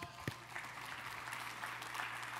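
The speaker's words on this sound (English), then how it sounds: "Give Mike a round of applause" Audience applause at a motivational talk on coaching athletes, a steady broadband wash of clapping filling the whole stretch, fairly distant and even, with no talk over it.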